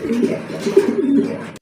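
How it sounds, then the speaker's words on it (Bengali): A pair of Romangol fancy pigeons of Indonesian bloodline coo softly and repeatedly at close range, with low rolling calls and no talking. "দেখতে পাচ্ছেন এখানে একজোড়া রোমাঙ্গল কবুতর"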